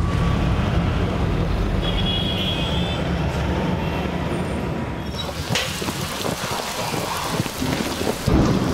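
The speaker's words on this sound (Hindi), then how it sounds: "अरे उषा जी आप बारिश छतरी के नीचे आ जाइए।" Steady heavy rain pours down with a low rumble of thunder underneath, then lighter patter with scattered drops and faint distant noise.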